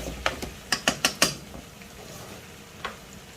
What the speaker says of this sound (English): Just going to stir that and saute them.